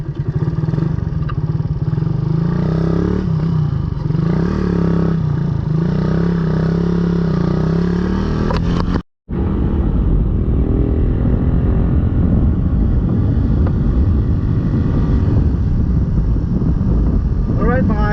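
A Suzuki Raider 150 motorcycle pulls away hard, its engine droning loud and close. A steady hum runs under wind rush, breaks for a moment, then returns as a rougher, louder roar.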